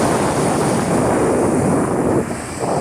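Ocean waves wash onto a beach in a steady, loud rush that is partly masked by wind buffeting the microphone, with no voices.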